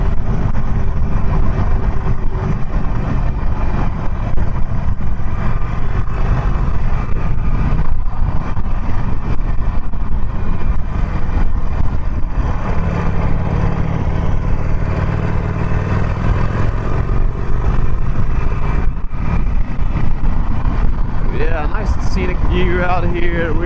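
A 2020 Harley-Davidson Iron 1200 Sportster motorcycle rolling along at an easy pace, its engine a low steady rumble with wind noise, under a rider talking throughout.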